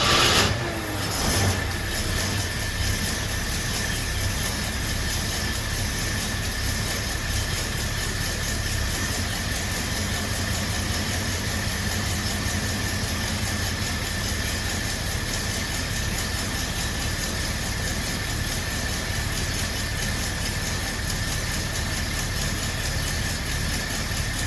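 A 1974 AMC Javelin engine cranks and catches, then settles into a steady, loud, even idle that holds without letup, close by and alone.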